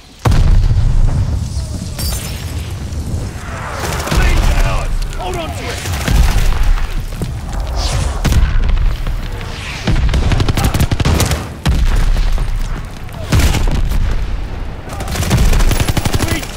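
Mortar shells exploding amid rapid gunfire in the video game Call of Duty Vanguard, with heavy booms and dense bursts of shots repeating loudly throughout while shouted voices cut in over the chaos.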